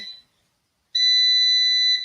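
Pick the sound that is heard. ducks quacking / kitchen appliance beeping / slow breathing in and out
kitchen appliance beeping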